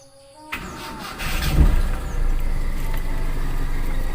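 A Toyota Kijang Super 5K engine turns over and settles into a steady, fairly loud run with a rough, rattling knock in its note, close by.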